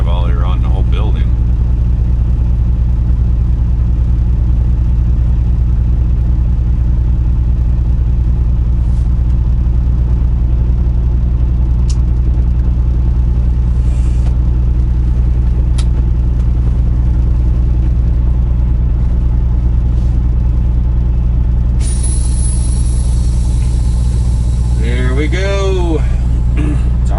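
A truck driving slowly all the way around a large building, its engine giving a steady, close, low rumble from inside the cab, with a few faint higher sounds near the end.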